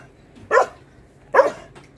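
Two sharp dog barks, about a second apart, close by and loud against a quiet background.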